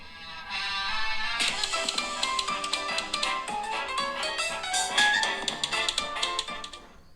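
Music plays through the stereo speakers of an iPhone 14 Pro, a steady stretch of full, bright sound with no talking.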